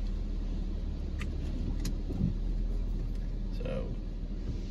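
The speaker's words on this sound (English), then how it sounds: "So we are in the car wash." Inside a car going through an automatic car wash, a steady loud roar of spraying water and machinery mixes with a low engine rumble, with faint voices in the background.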